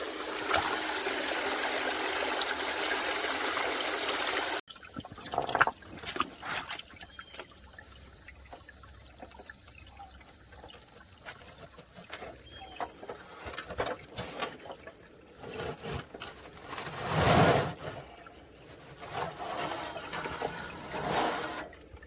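Water from a pond intake pump pours and trickles steadily after a louder burst at the start, with occasional splashes and gurgles and a swell near the end, outdoors with faint birds.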